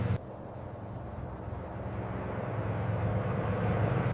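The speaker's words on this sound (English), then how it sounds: "The sky, once silent, filled with the sound of engines." Engines of Allied World War II fighter planes and bombers, a low rumbling drone that builds gradually and grows louder, with no voices.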